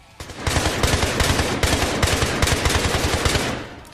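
Rapid automatic gunfire in a shooting video game, a sustained burst of evenly spaced sharp shots lasting about three seconds, loud and close, then cutting off.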